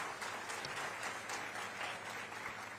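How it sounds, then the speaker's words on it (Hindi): Audience applause at a government event in Chhattisgarh honouring job letter recipients, a steady wash of many hands clapping at moderate distance, sustained and even throughout. "और सबके लिए जोरदार तालियां बनती है"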